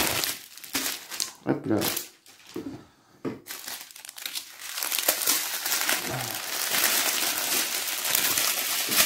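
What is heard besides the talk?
unwrapping diamond painting rhinestone packets, crinkling plastic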